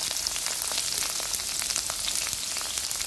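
Three chillies fry lightly in a pan with a little oil for vegetable Maggi, giving a soft, steady sizzle with tiny scattered pops throughout and no voices.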